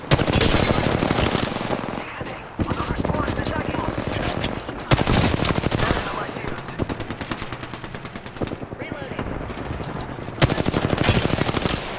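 Sustained rapid automatic gunfire in a shooter video game, loud and dense bursts with brief breaks between volleys, layered with fainter shots and some talk underneath.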